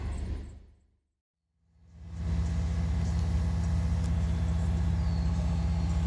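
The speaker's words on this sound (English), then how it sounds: "So we need to let it run, spit the cobwebs out of the motor, whatnot." A Chevrolet Blazer's engine idles steadily after a brief quiet gap, a low constant rumble with a clear hum, close and continuous.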